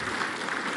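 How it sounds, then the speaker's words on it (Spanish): Applause from an audience at a school inauguration event in Ixtapaluca, Mexico, a brief dense burst of clapping at moderate level. "un aplauso muy fuerte"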